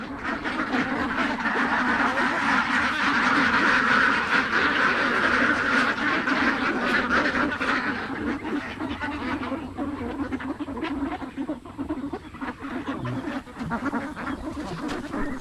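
Ducks quack steadily in a farmyard flock, a dense, continuous chorus of nearby honking calls that thins slightly toward the end.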